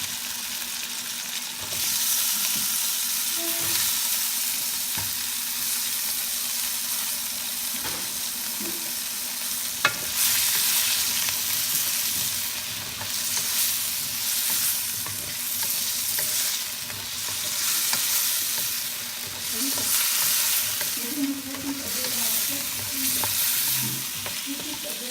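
Potatoes sizzle steadily in a pan with plenty of garlic, the frying hiss continuous and close, broken by occasional scraping stirs and a brief clink, with no voices.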